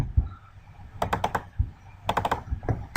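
Computer keyboard keys pressed for an editing shortcut in After Effects: two quick clusters of crisp, close-up clicks separated by a brief pause, with faint room noise between them.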